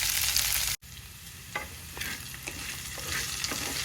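Okra pieces fry in a pan with a loud sizzle that cuts out abruptly, then returns softer with scattered stirring scrapes and light spatters.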